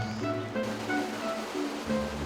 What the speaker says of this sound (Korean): 빗소리가 그치자 골짜기마다 물소리가 진동을 합니다